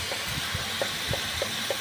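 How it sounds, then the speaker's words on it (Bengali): Chicken pieces sauté with spices and salt in a hot pan, giving a steady, close sizzling hiss with faint soft knocks and bubbling underneath. "মশলা ভালো করে মেখে নিয়ে 5 মিনিট কষিয়ে নেব একটু নুন দিয়ে"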